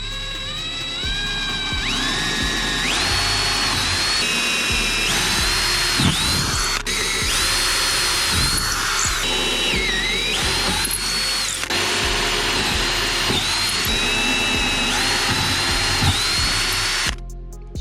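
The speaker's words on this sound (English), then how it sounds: "So I'm just gonna go ahead and drill these" Power drill boring six holes for a trolling motor mount, loud and close, its whine rising and falling as the bit spins up, bites and slows, with short pauses between bursts.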